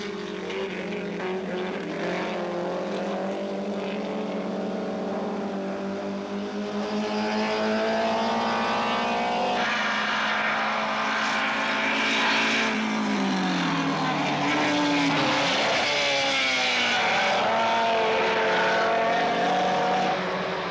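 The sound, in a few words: classic race cars, Alfa Romeo Giulietta SZ, passing on circuit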